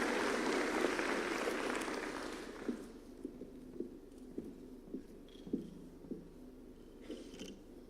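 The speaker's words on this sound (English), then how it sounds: "Let's give him a clap as he's coming." A crowd claps for a few seconds at a presidential address at State House, Nairobi, and the applause quickly fades, leaving a quiet room with a few soft taps.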